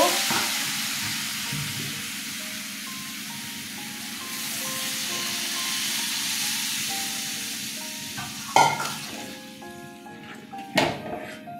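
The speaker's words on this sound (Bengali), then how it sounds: "কষানো হয়ে গেছে, জল দিয়ে দিচ্ছি, আর একটু জল দিব।" Water is poured into spices that have been fried down in a pan for an ol (elephant foot yam) curry with chickpeas, giving a sustained sizzling hiss. Two sharp clatters follow late in the clip.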